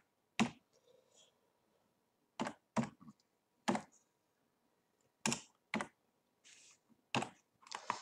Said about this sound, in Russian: для подтверждения вводим наш финансовый пароль